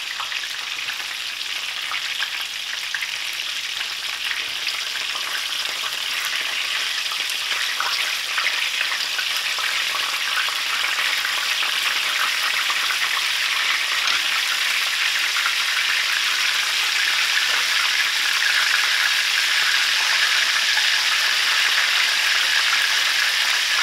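Vietnamese spring rolls frying in a pan of oil, a steady dense hiss and crackle of sizzling that holds loud and close throughout, with no talking.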